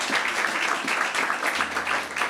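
A church congregation applauding during a sermon, steady, dense clapping that fills the room throughout.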